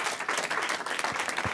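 Brief, fairly loud applause from an audience at an AI gathering in a New York City event space, a continuous spread of clapping hands over a second and a half.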